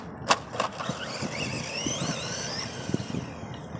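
A WL Toys A979B RC car runs on an open street with a thin, rising and falling electric motor whine, wheels rasping over rough pavement, and a few sharp knocks over a brief pass.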